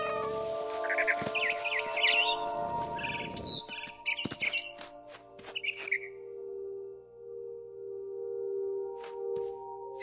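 A cat meows several times in the video game What Remains of Edith Finch, a string of clear mid-pitched calls over the first half, with faint bird chirps mixed in against a steady low ambient drone.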